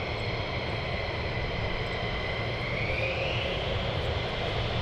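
Military jet aircraft taxiing at RAF Lakenheath, a steady, loud engine roar and whine that holds continuously throughout with a slight rising pitch partway through, no talk over it.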